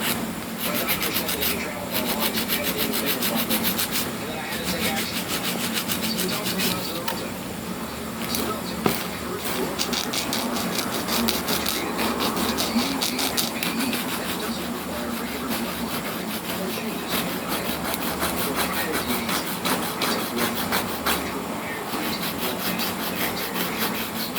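A nail file rasps back and forth against a fingernail, shaping it into a stiletto point, in quick continuous scraping strokes heard up close and fairly loud throughout.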